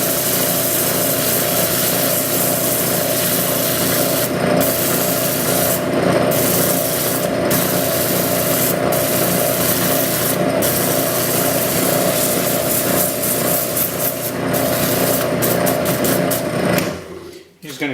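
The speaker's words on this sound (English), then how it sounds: "Got a foam pad, some sandpaper. We just kick it on." A part is power sanded with sandpaper on a foam pad at roughly 750 to 1000 RPM, giving a loud, steady whirring rub that runs throughout before stopping near the end.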